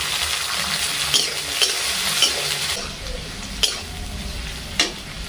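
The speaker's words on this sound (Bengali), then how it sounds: "বেশি ভাজবো না, দুই একবার নাড়াচাড়া দিয়েই দিয়ে দেবো বিনগুলো।" Green beans stir-fried in a pan for fried rice give a steady, close sizzle, punctuated by several distinct scraping strokes of the spatula against the pan.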